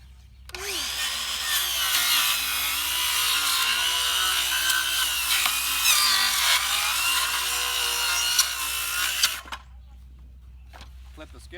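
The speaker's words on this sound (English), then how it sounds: "use a circular saw first" A circular saw rips through lumber for a raised garden bed, one sustained loud whining cut lasting about nine seconds, then cutting off abruptly into quiet.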